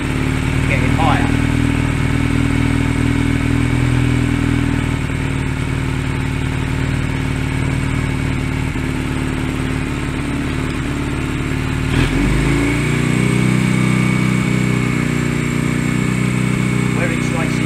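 Honda Rebel 125 motorcycle engine idles steadily during carburetor adjustment, then its revs lift and its tone shifts about two-thirds of the way through, a loud close engine running under occasional talk.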